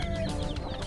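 Soft clucking and cheeping from young chickens, about six days old, mixed with a steady low background hum, continuous throughout with no talking.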